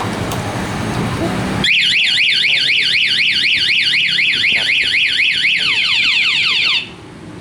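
Anti-theft alarm fitted to a Honda MSX 125 motorcycle blares loud and close, a rapidly warbling electronic siren that rises and falls steadily for about five seconds, then cuts off abruptly.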